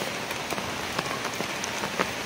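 Rain pours down steadily on a university campus in Silang, Cavite, giving a dense, continuous hiss of drops striking surfaces nearby, with no talking.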